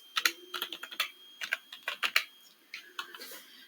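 Fingers type a word on a computer keyboard, producing a quick, close series of crisp clicking keystrokes in irregular bursts with short pauses, and no talking.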